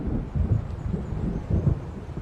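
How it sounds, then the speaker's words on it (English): Low, rumbling thunder of an approaching storm in the video game Alan Wake Remastered, rolling in two heavier swells over a steady windy, rainy background, fairly loud with no talking. "It seems there's a storm coming."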